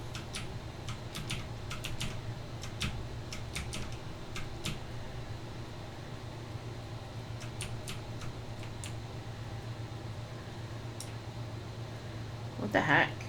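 Typing on a computer keyboard during PC gaming, with quick bursts of scattered, fairly close clicks separated by pauses, over a low steady fan hum, ending in a louder clatter.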